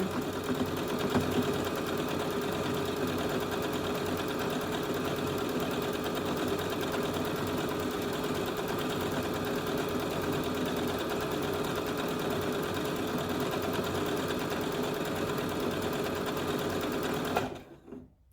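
A sewing machine runs steadily, automatically feeding fabric through while stitching a romper modification, a close, constant mechanical whir that stops abruptly near the end.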